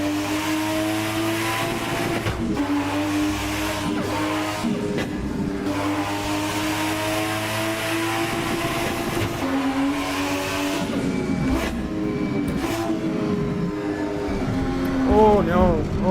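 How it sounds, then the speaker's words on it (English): A 1000-horsepower car in the racing game Assetto Corsa, driven through highway traffic, revs hard with rising and falling engine tones and gear changes, loud and continuous, with a short squeal near the end. "I can do this all day, every day, and just listen to this car."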